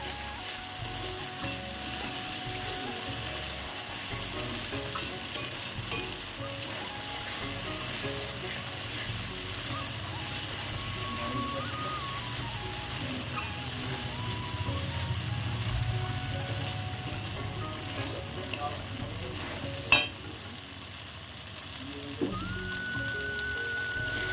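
Masala being sautéed for prawn malai curry gives a long, steady frying sizzle with occasional stirring scrapes, one sharp clink near the end and a brief quieter moment, close up with no talking.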